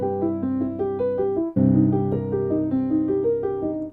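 A piano plays a seventh chord in the right hand over a left-hand block chord, with bright repeated notes in two close phrases separated by a short break, loud and near.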